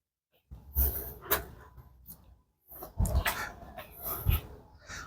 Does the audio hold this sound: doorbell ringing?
no